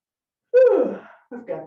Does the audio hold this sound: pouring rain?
no